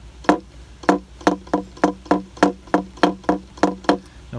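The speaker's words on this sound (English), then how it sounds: "you get a knocking sound from pulling the pin backwards like this" Steady series of about eight sharp wooden knocks from a séance table as its pin is pulled back, each a crisp near rap spaced roughly half a second apart, with no talk over them.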